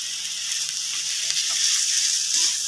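Bitter gourd kofta fries in a pan with a steady, soft sizzle as ground coriander paste goes in, with faint stirring and no voices.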